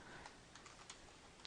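Quiet keystrokes tapped out on a computer keyboard, a short run of soft clicks ending in a slightly louder press.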